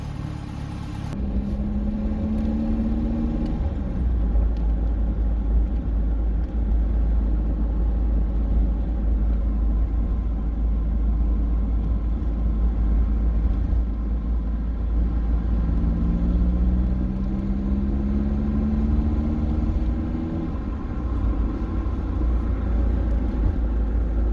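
A Ford Capri engine fitted with a Chinese 32/36 carburettor idles on choke, a steady low rumbling drone throughout with two brief rises in pitch as it is blipped.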